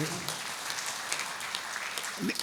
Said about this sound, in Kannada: ಜೋರಾಗಿ ಚಪ್ಪಾಳೆ ಕೊಟ್ಟು ಅವರಿಗೆ ಸ್ವಾಗತ